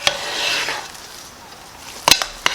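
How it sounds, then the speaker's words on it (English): Thick hot process soap stirred by hand, a soft, close scraping swish that fades, followed by a few sharp clicks of the utensil against the pot near the end. "I'm gonna stir this in really good."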